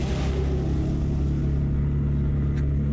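A race car engine in the Automobilista 2 sim racing game holds a steady, loud, droning hum on track, continuous and up close with no talking over it.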